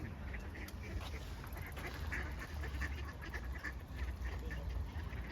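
Ducks squabble noisily on the water by a riverbank in Ukhta, Komi Republic, in late September, a dense continuous chorus of quacks and honks close by with faint voices in the background.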